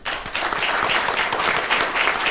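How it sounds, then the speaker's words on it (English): Audience applause at a public panel event, dense and loud sustained clapping that fills the whole moment, with no talk over it. "A big round of applause, please."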